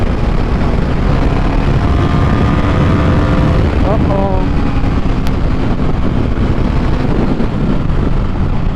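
A Bajaj Pulsar NS400 motorcycle running at top speed, with loud engine drone and heavy wind rush throughout and a rising whine of the revs in the middle.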